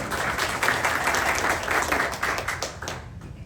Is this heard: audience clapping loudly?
yes